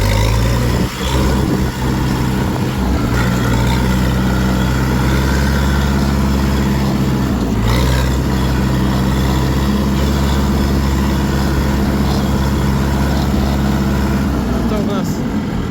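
A DTZ tractor engine runs steadily nearby, a loud, continuous low rumble that holds almost unchanged throughout, with someone talking over it.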